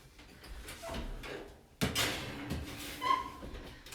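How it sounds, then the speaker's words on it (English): An oven door thuds as a tray of veggie fries slides in, a sharp clatter at the midpoint followed by scraping and a metallic knock, moderately close in a home kitchen. "So I'm gonna stick this tray in the oven"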